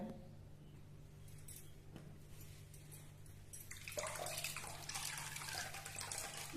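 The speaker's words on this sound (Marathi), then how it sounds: "हा गोलम आता परत आपण एका पाण्याने धुऊन काढूया" Water splashes and runs as chopped kohlrabi is rinsed by hand, starting quietly and growing louder and busier toward the end, with a low hum underneath.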